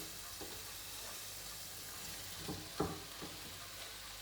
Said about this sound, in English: we're just going to cook these off for about 6 to 8 minutes and just brown them all up and crisp up the bacon